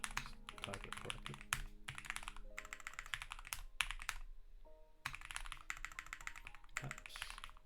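Typing on a computer keyboard while entering an SQL student database query, with rapid bursts of close key clacks separated by short pauses and one longer gap near the end.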